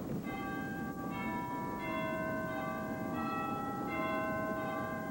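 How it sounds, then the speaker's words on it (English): Pipe organ cathedral chimes played from the keyboard, ringing out as a slow run of clear tuned bell strikes whose tones linger and overlap over a soft background rumble. "we saw, first of all, the cathedral chimes."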